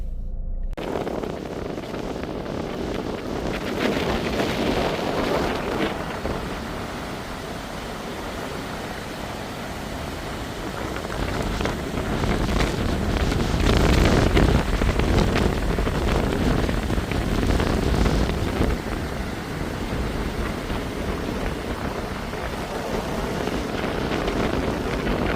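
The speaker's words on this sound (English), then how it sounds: "It was a bit windy out there" Steady, heavy wind at a beach rushing and buffeting a microphone outdoors, with broadband roar swelling and easing throughout, no voices.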